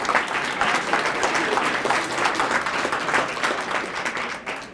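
An audience applauds an honoree at a St. Paul neighborhood honor roll ceremony, a fairly even crowd clapping that carries on for several seconds with no one speaking over it.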